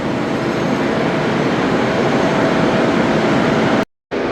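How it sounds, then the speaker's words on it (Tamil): Steady, loud rumble of a Thai night train running on rails, a continuous broad roar with no speech, broken by a brief silence near the end. "அங்கால ஒரு ட்ரெயின் போகுது"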